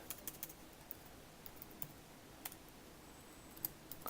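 Fast, uneven keystrokes on a computer keyboard, clicking in bursts with short pauses, faint and close with no speech.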